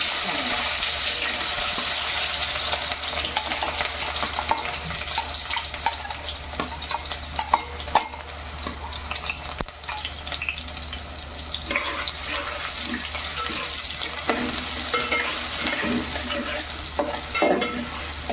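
Onions frying in hot oil in a pan, a steady sizzle lasting throughout, with occasional stirring and scraping sounds and some background noise.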